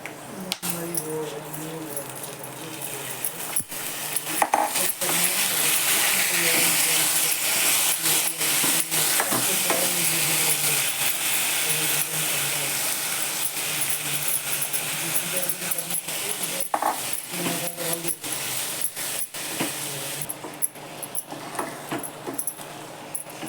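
Rice is stirred and fried in a kadhai with whole cardamom pods for coconut rice, giving a continuous close sizzling hiss with scattered spoon clicks and a voice talking at times.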